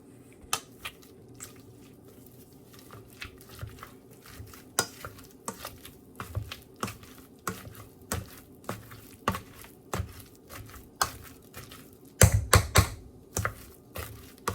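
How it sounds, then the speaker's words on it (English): Boiled potatoes are mashed with a potato masher in a pot, giving a repeated series of soft, wet thuds and squelches at an irregular rhythm, growing heavier and louder near the end. "I got a potato masher, and this is it. I'm just going to mash them up."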